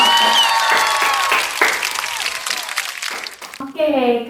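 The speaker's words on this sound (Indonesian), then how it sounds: "Ayo kita beri tepuk tangan untuk kelompok apel." A classroom of children claps for a group presentation, a loud burst of quick scattered hand claps that tapers off, followed by a teacher's voice at the end.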